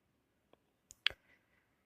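A few sharp computer mouse clicks, close and crisp, with one louder double click, against near silence.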